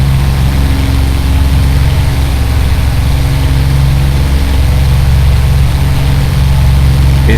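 Spitfire Mk I piston engine from the A2A flight simulator, a steady loud low rumbling drone running continuously without pause, with no voices over it.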